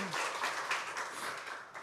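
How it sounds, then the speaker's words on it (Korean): A church congregation claps together during a Sunday worship service, a short, even wash of many hands applauding at moderate distance. "우리 하나님께 영광의 박수 올려드리겠습니다"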